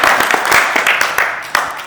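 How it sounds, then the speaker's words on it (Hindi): An audience at a meetup claps together, a loud, close burst of dense applause with individual sharp claps standing out, fading slightly toward the end. "एक बार ताली बजा के बता दो"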